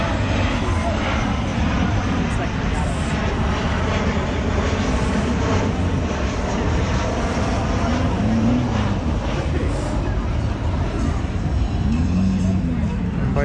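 A fixed-wing airplane passes low near an airport with a loud, steady engine roar, heard over a cars and coffee car show along with crowd chatter and people talking nearby.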